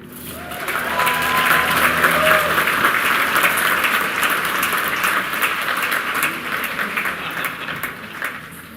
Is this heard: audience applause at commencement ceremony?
yes